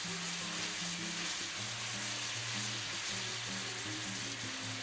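Teriyaki-marinated tenderloin medallions sizzle in a pan with marinade poured over, a steady close frying hiss with crackle and faint clinking from the pan, no one speaking.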